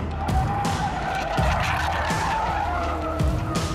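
Tires of a Lotus Elise Sport 240 Final Edition or Caterham Seven 485 R squeal and scrub loudly as the lightweight car understeers hard on track, a sustained skid with the engine roaring underneath and no talk.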